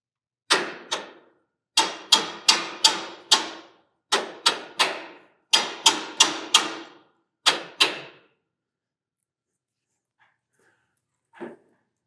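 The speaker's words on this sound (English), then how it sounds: "so we're going to use this rubber mallet instead." A rubber mallet strikes a cable sheave in repeated sharp knocks, mostly grouped in pairs and short runs, close and loud. A pause follows, then one fainter knock near the end.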